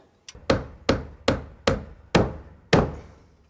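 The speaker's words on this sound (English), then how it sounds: "bend that back onto there, and then hammer that into place" Six sharp hammer blows strike bent metal back into place on a frame during an off-grid bathroom build, evenly spaced and loud, each ringing briefly before the next.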